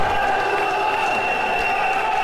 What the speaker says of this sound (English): The crowd getting absolutely wild now